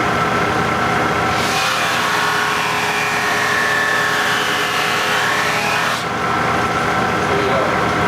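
A moulding sander with a 120 grit mop runs continuously as hardwood trim is fed through, with a brief louder abrasive rasping stretch over the steady machine drone.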